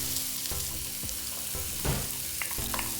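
Thinly sliced onions hit a hot pan holding about two tablespoons of oil, giving a close, steady sizzle broken by several clattering stirs and pan knocks, with no one speaking.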